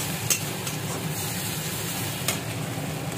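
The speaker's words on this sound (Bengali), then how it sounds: "রসুন কুচানো এটা একটু ভাজা ভাজা হয়ে আসলে পরে" Steady sizzling of chopped garlic frying in hot oil, with a couple of brief stirring clinks, continuous and close with no voices.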